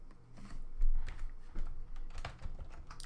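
Steady typing on a computer keyboard while writing Rust code: close, irregular clicks and key taps running continuously with small bursts, no speech.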